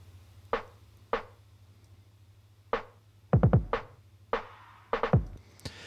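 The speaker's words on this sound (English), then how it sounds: "So it's just a kick and a snare going on" A filtered kick drum and snare play a sparse beat together, soft thuds and sharper hits landing at irregular intervals, including a quick burst of rapid hits, alone with no other instruments.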